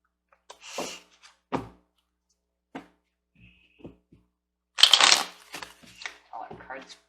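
Tarot cards shuffled by hand in a few short bursts, with a louder riffling flurry near the end and quiet pauses between.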